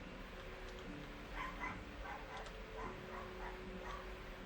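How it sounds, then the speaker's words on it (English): A puppy in Minecraft barks and whimpers in a string of small, thin yips, moderately loud over a steady background hum, with no talking. "Wow, noisy puppy."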